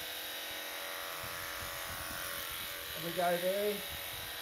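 Electric clipper buzzing steadily close by while crutching a sheep around the tail, a constant mechanical hum with someone talking over it and a sheep's bleat rising briefly.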